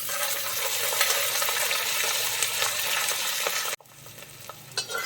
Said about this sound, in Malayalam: നമുക്ക് നന്നായിട്ട് ഒന്ന് വഴറ്റിയെടുക്കാം.